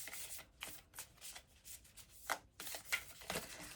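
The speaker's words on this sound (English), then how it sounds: "These heart ones, they're beautiful and sweet, but they're so hard to shuffle." Heart-shaped oracle cards being shuffled by hand in quiet, uneven riffling bursts of crisp papery flutter, close and soft, with short pauses between passes.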